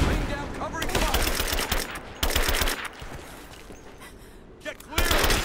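Covering gunfire in Rise of the Tomb Raider, dense bursts of rapid automatic shots in a mine, loud and nearly continuous with short gaps, while voices call out over the fire.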